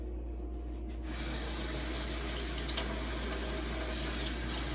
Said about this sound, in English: I'll wash this underneath the sink to collect all of the grounds